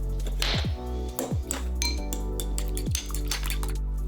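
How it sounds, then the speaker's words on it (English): A fork beats four eggs with black pepper and salt in a bowl, producing quick metallic clinks and scrapes close up over a steady low background hum, with no talking. "using a fork I am mixing everything together"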